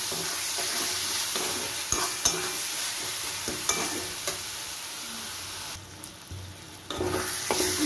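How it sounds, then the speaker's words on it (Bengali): Spices with turmeric and sugar sautéing in a pan for jackfruit curry, a steady close sizzle of frying broken by repeated scraping stir strokes, with a brief quieter lull near the end before the frying picks up again. "সব কিছু দিয়ে আরও 2 থেকে 3 মিনিট ভালো করে কষিয়ে"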